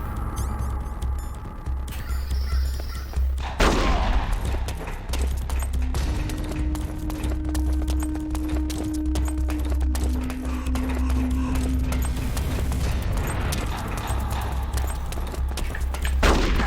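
Revolver gunfire in the video game Metal Gear Solid: The Twin Snakes: a loud burst of shots and impacts rising out of a steady, dense game soundscape with a low rumble underneath.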